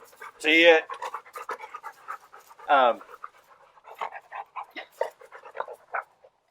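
A dog pants in quick, heavy bursts close by, with a whimper and voices talking over it.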